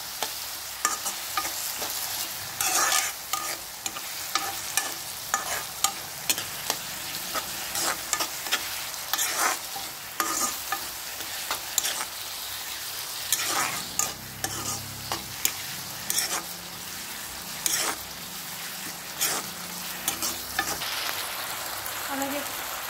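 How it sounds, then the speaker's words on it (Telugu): Ginger garlic paste fries in a hot pan for a Telugu dondakaya (ivy gourd) curry, with a steady sizzle broken by frequent scraping stirs of a spoon against the pan, close and moderately loud, with no talking. "కొంచెం అల్లం వెల్లుల్లి పేస్ట్ వేసుకోవాలి. పచ్చివాసన పోయేంత వరకు బాగా మగ్గించుకోవాలి."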